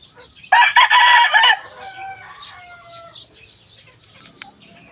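A gamefarm rooster crows once, loud and close, a harsh rising call of about one second, followed by quieter clucks and chirps from other fowl nearby.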